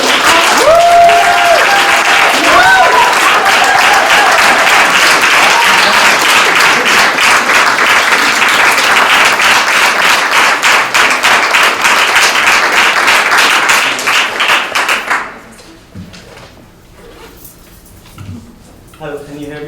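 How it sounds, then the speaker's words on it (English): A campus crowd at UW-Madison gives a visiting speaker a loud, sustained round of clapping that holds steady for about fifteen seconds and then stops abruptly, leaving quiet room noise with faint handling sounds. "give him a loud round of applause"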